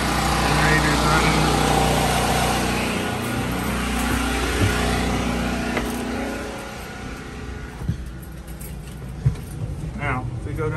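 A 3,500 watt portable generator runs with a steady engine drone that fills the background, while a person talks over it and a few clicks and knocks sound nearby.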